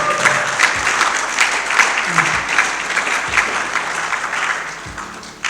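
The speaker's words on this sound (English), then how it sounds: "Everyone give yourselves a big round of applause again." Audience applause at a cancer society science fair in Samoa, a steady wash of clapping from a large crowd lasting several seconds, with occasional low thumps underneath.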